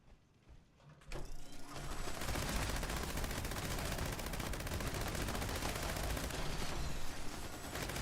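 A gatling-style gun in Fallout 76 fires a sustained, rapid burst of loud shots after a brief quiet start, keeping up steady automatic fire for several seconds.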